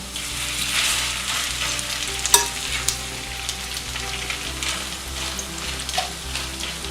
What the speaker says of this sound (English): now we are going to let them cook on the first side, or fry, or whatever you call that